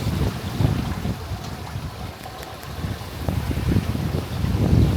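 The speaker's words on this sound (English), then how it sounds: "It is quite windy." Steady gusty wind roars across the microphone at a holiday resort pool area on Kos, Greece, a constant low rumbling buffet with no voices.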